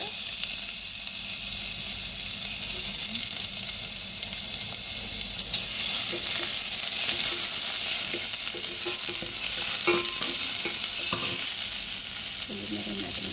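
Eggplant frying in oil in a pan, a steady, close hissing sizzle that runs throughout, with a few soft utensil knocks and stirring sounds toward the end.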